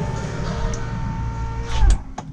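Power window on a V12 car whirring steadily as the driver's glass moves for about two seconds, ending with a brief louder clunk as it stops; no talking.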